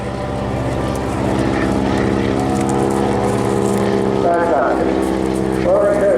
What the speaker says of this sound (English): keeping the aircraft steady as she goes